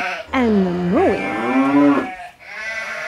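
A cow in a barn gives a loud, close moo that rises, wavers and falls over about two seconds.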